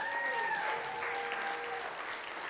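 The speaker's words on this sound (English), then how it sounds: "How about a round of applause for him?" Audience applause for the evening's photographer at a charity cabaret, a steady patter of many clapping hands, moderately quiet, with a brief sung or whistled tone drifting over the start.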